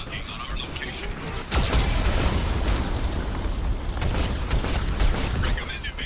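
Geth cannon blast in Mass Effect 2, a sudden loud boom followed by sustained rumbling and crackling debris noise that stays dense and near to the end.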